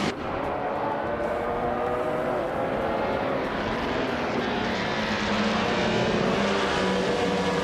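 A 1957 Maserati 250 T2 in a racing video game at Sebring, its engine roaring loud and steady alongside other race cars in a dense, continuous wall of engine noise that swells slightly toward the end.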